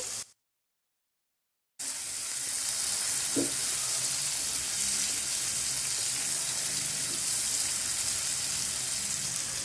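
An egg mixture for anda katli sizzles and fries steadily in a pan while being lightly stirred, the frying hiss constant and close after a brief silent gap at the start.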